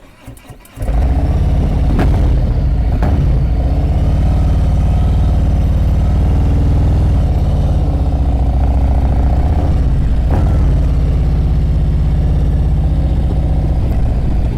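A motorcycle runs steadily with its clutch pulled in during an advanced slow-speed riding practice session in Ohio. The engine holds a close, loud, even idle-like drone after a short start, with a few faint clicks.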